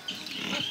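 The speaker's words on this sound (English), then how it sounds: "Pig here." A pig gives a short grunting snort, close and clear, lasting under a second.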